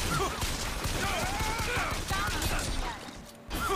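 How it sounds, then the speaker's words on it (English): Rapid turret gunfire in the shooter game Bioshock Infinite, a dense sustained burst of shots lasting a few seconds under an excited player's voice, briefly dropping out near the end before resuming. "there's a turret!"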